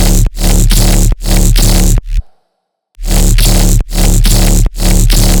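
A heavy dubstep bass with a sub bass layer added underneath. It sounds very loud, dense and sustained, pulses in a rhythmic pattern and drops out once for a short silent gap.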